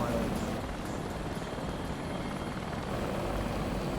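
A helicopter in a flight simulator flies over the Thames and London, its rotor and engine producing a steady, dense, loud drone that fills the whole stretch without pause.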